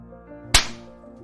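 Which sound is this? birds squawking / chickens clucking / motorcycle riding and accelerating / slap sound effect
slap sound effect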